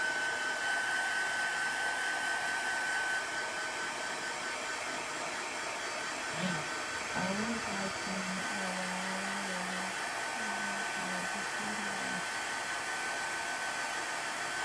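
A hair dryer blows steadily over a chalk paste craft project, a constant airy whoosh throughout, with a faint low hum appearing briefly partway through.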